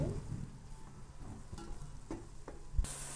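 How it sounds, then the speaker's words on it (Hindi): Onions fry in a pan with a faint, steady sizzle, broken by a few soft stirring scrapes and clinks. "चार से पांच मिनट तक हम प्याजों को फ्राई करेंगे।"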